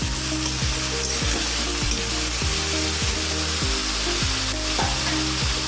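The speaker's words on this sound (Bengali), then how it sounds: "রাখা বেগুনগুলো ভালো করে কড়া করে ভেজে নিতে হবে বেগুনগুলো" Eggplant pieces fry hard in hot oil for a Bengali eggplant and greens dish, a dense steady sizzle and crackle with repeated scraping strokes of a spatula stirring the pan, close and continuous without speech.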